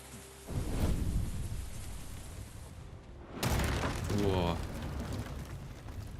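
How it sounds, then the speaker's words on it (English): A big boom rumbles out in the video game Ghost of Tsushima, with a first loud burst followed a few seconds later by a second heavy blast and crackling debris, all under a continuous game backdrop. "Oh, are we going to see a nice explosion?"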